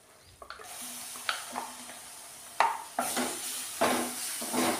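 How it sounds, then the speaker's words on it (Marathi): Potato bhaji with masala being sautéed in a pan: a spatula knocks and scrapes the pan in irregular strokes while oil sizzles underneath, the frying hiss growing louder toward the end, close by and without speech. "याला पण व्यवस्थित परतून घेऊया आपण."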